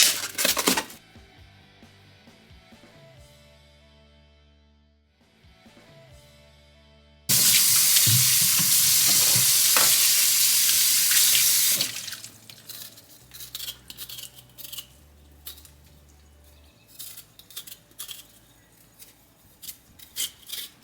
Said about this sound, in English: I'm just going to just like rinse them and then peel them.